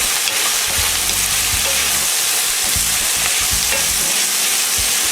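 A spoon stirs vegetable curry ingredients frying in a hot pan with black pepper and kosher salt, giving a loud, continuous sizzle broken by scraping and clattering strokes, with no talking.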